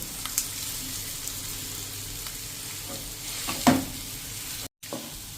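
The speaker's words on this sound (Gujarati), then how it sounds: "હવે જે આપણે આ 250 બટેટા એટલે કે 3 મીડિયમ સાઇઝના બટેટા લીધા છે ને એ પણ હવે આમાં નાખી દેશું।" Three medium potatoes, about 250 grams, tumble into spiced masala frying in a pan, giving a steady soft sizzle with stirring scrapes and one brief louder splash of sizzle partway through.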